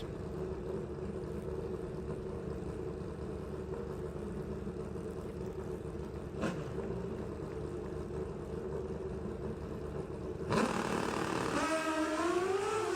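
Pro Stock drag racing motorcycles in a final at the US Nationals, a steady loud engine drone throughout, then a sudden louder burst near the end as they launch and their pitch sweeps upward.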